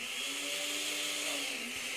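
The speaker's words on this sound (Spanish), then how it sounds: "Que todo el calor salga por la parte de arriba y no nos explote la licuadora" A kitchen blender runs steadily with a whirring motor hum, heard alone at moderate loudness with no talk over it.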